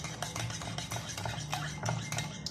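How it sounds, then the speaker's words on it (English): A utensil mixes cookie batter in a bowl, scraping and clinking in a quick, busy rhythm, close and moderately loud, with no voices. "Keep mixing."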